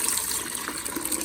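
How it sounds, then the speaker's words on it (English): A half-vinegar, half-water cleaning solution pours steadily into the reservoir of a Frigidaire countertop ice maker, a continuous close splashing gush with no voices. "take this vinegar water solution, half vinegar, half water, and we're just going to pour it in here"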